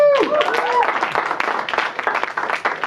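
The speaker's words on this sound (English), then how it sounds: "Let's hear another round of applause for him." An audience at a stand-up comedy show breaks into clapping and cheers, dense and lively applause filling the room, with a voice briefly calling out over it at the start.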